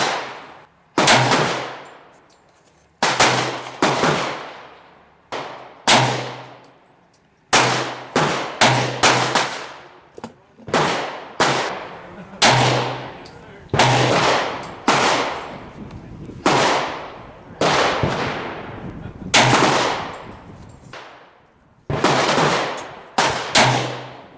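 A .40 S&W pistol firing 170-grain powder-coated cast bullets at 15 yards, about twenty sharp loud gunshots in irregular bursts with ringing decays, heard close at an outdoor range.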